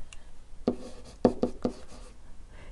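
Pen strokes on paper while a math problem is worked out, a few short scratchy marks in quick succession, quiet and close, with no talking.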